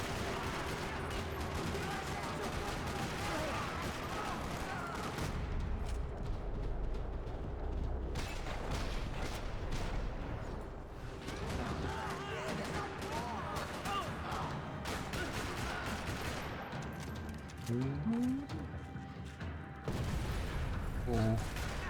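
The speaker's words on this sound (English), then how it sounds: "Another parking lot rattling with gunfire." Gunfire rattles through a parking lot in Max Payne 3, with loud bursts, booms and mechanical clatter repeating across the scene, mixed with game speech.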